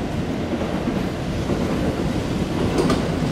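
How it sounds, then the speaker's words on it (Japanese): Kintetsu commuter train pulling into a station in Nagoya, a steady broad rumble of wheels and rails with a faint rising whine, close and continuous throughout. "近鉄の通勤電車が入ってまいりました。"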